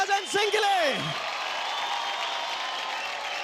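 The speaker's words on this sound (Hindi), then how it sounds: "जोरदार तालियां हो जाए" Studio audience on a TV dance competition show applauding and cheering after a performance, a steady wash of clapping and whoops at moderate distance, with a swooping whistle-like effect near the start.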